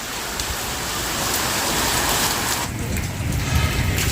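Heavy rain pounds down near a doorway where water is pooling, a loud, steady hiss of downpour that shifts slightly in texture partway through.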